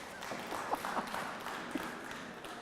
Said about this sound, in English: A round of applause for the beekeeper.